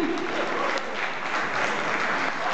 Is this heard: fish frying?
no